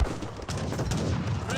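Leather cannons fire in a battle in Age of Empires 3: Definitive Edition, several booming shots in quick succession over battle noise, loud and close, with a faint voice in the background.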